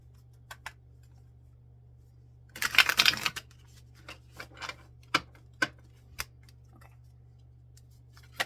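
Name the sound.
shuffling a tarot card deck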